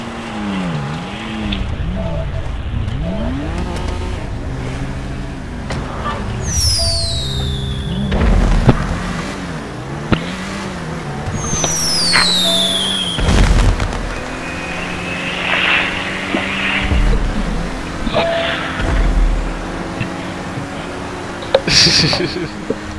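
Grand Theft Auto V Online fireworks whistle upward and pop amid engine drones and game effects at a street car meet, with people talking over the noise.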